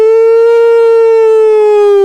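A person's voice imitates a tornado siren, holding one loud, steady, tone-like wail for about two seconds that sags slightly in pitch at the end, with no other sound around it.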